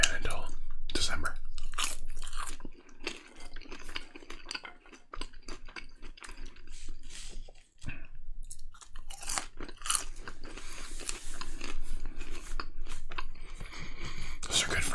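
McDonald's fries being chewed close to the microphone in a quiet setting, with soft, continuous wet crunching and mouth sounds. A voice speaks intermittently between bites.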